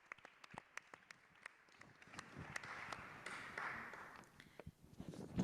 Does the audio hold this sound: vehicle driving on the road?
no